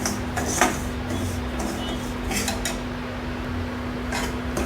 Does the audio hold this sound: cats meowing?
no